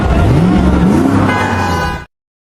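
A car driven on the road in the horror film Smile 2, its engine a loud, close hum with a rising and falling tone, cutting off abruptly near the end.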